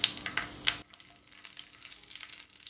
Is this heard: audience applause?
no